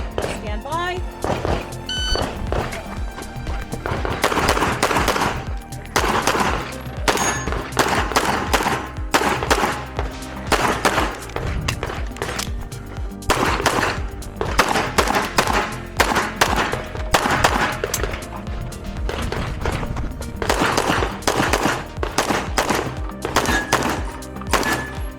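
Pistol shots during a USPSA action pistol match stage, a dense run of sharp loud reports in rapid strings with brief pauses throughout, close to the shooter.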